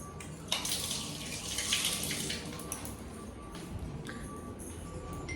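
Tap water pours steadily while a glass is rinsed beneath it, a bright hiss that swells early and then settles into a quieter flow with a few small splashes.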